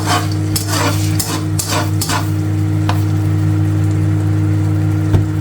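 Scrambled eggs stirred in a pan, a spoon scraping and clinking against the metal in a few quick strokes over steady sizzling, with a loud constant low hum running throughout.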